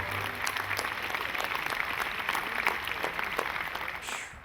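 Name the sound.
audience applause at a Memorial Day event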